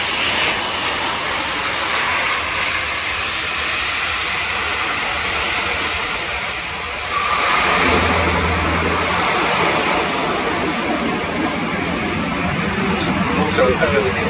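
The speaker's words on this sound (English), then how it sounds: "Setting the aircraft up in a steep descent, and we'll see a full-stop landing aided by the powerful automatic brake." A German Air Force Airbus A400M Atlas turboprop transport flies a steep descent and full-stop landing at an airshow, with loud continuous engine and propeller roar that swells near the end while a commentator talks over it.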